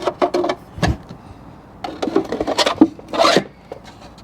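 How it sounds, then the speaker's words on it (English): Threaded plastic scraping and rasping as a propane tank is screwed into a 3D-printed adapter on a camp kitchen drawer, in several short gritty turns with pauses between, close and fairly loud. "I can screw this propane tank with this 3D printed adapter"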